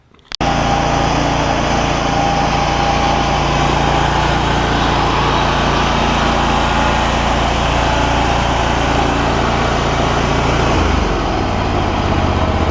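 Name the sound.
John Deere ZTrak zero turn mower Kohler V-twin engine running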